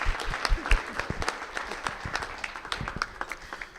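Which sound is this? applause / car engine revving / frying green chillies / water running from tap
applause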